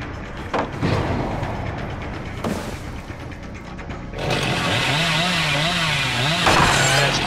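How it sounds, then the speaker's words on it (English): Chainsaw revving in a multiplayer horror video game, a harsh buzzing drone that starts after several sharp impact bursts and then runs steadily with a wavering pitch, loud and close. "If I can hit them with my chainsaw, it's like a one-hit kill."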